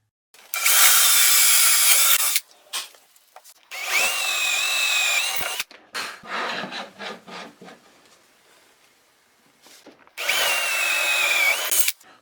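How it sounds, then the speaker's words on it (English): Power drill boring a through hole in a tropical wood garden tabletop, three loud sustained bursts of drilling separated by quieter handling and scraping sounds, with no talk. "Centered with each countersunk hole, I drill a through hole to the other side."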